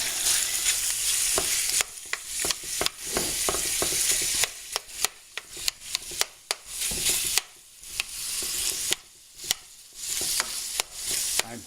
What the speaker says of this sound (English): Then put your beef in the pan